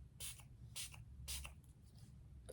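A plain water face mist spray is pumped three times, each press a short, close hiss spaced about half a second apart, followed by a few faint handling sounds.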